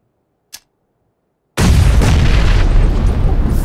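A grenade detonating inside a house during a video game building assault: a brief faint tick, a moment of silence, then a sudden loud, close blast whose heavy roaring rumble carries on to the end.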